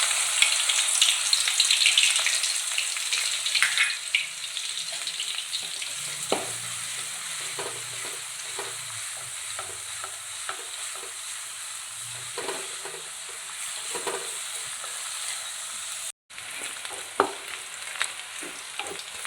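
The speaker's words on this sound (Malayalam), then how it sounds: "ചട്ടി വെച്ച് എണ്ണ ഒഴിച്ച് അതിലേക്ക് വെളുത്തുള്ളി, ചെറിയുള്ളി എന്നിവ ചതച്ച് വെച്ചത് ഇടുക." Crushed garlic and shallots frying in hot oil in a pan, a loud continuous close sizzle with frequent stirring scrapes throughout and no talk.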